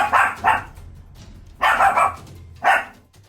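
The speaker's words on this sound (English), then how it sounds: "This creepy doll has been freaking out this dog for days on end" A dog barks at a creepy doll, sharp loud barks in two pairs with brief pauses between, close to the microphone and with no voices.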